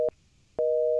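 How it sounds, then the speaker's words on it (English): Telephone tones while dialing the operator: two short beeps of a steady electronic signal, the second starting after a brief gap and holding to the end, clear and alone. "That's just dialing the operator, right?"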